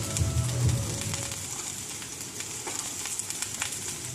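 Beans and chopped flat beans sizzle in a hot pan with a dense, steady hiss. The sizzle is loudest at the start as they go in, then settles into a continuous crackle with small spatters, close up and alone.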